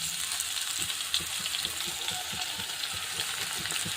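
Masala okra (bhindi) cooking in a pan, a steady soft sizzle with occasional light stirring taps, continuous and fairly quiet with no talking.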